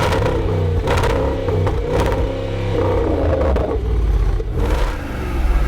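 A 2019 Jaguar F-Pace SVR with its noisy exhaust switched on in dynamic mode gives a steady, deep engine rumble and revving, with a few throttle swells from inside the cabin and no talking.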